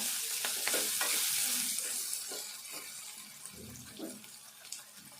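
Onions and green chillies fry in a pan for a cabbage and tomato curry, a close, steady sizzle with occasional stirring scrapes, softening slightly toward the end, with no talking.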